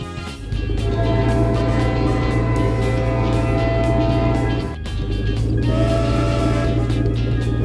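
A loud, steady rumble of a cartoon train in Peppa Pig with droning engine tones and a brief dip midway, close and continuous.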